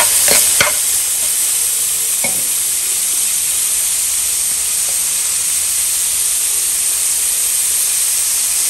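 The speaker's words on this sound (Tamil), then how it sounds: "உப்பு எழுதி போடணும், சீக்கிரமாக வெங்காயம் வதங்கணும்." Onions sauté with salt in a hot pan for a mushroom masala fry, giving a steady, loud sizzling hiss with a few sharp crackles near the start and no talking.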